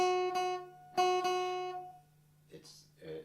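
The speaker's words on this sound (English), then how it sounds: "lifted the finger slightly to give us sharp, what's called a staccato sound." Several short guitar notes are plucked and quickly muted, giving a crisp staccato feel, followed by a brief bit of talking.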